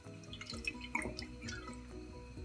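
Olive oil pours from a bottle into a preheated pan on the stove, with a soft, close trickle and small drips and glugs throughout.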